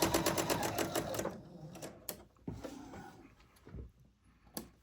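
A sewing machine stitches through quilt fabric in a fast, close run of needle strokes, then stops, followed by a few scattered clicks and soft handling sounds.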